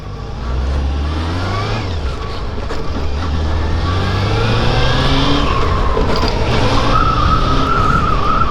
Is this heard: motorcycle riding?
yes